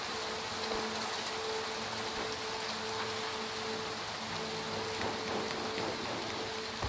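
Steady rain falls in the horror video game Little Nightmares II, a dense continuous hiss of drops spattering on surfaces that holds an even level throughout, with faint low tonal game ambience beneath and no talking.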